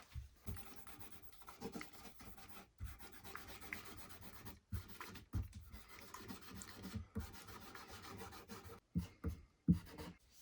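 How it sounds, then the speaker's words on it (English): A cloth rubs Dunlop lemon oil into the fretboard of an acoustic replica D45-style guitar, giving soft, close scrubbing strokes with short gaps and occasional light knocks; no one speaks. "we'll put some Dunlop lemon oil on the fretboard here"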